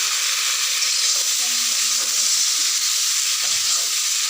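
Potatoes go into fried spice masala for an egg curry, setting off a loud, continuous, close hiss of sizzling oil with faint stirring underneath.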